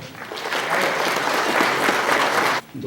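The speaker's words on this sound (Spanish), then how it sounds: "le damos una bienvenida con un fuerte aplauso" Audience applause welcoming a speaker at a criminal law diploma course session, a dense, steady burst of clapping that swells and holds for over two seconds, then cuts off abruptly.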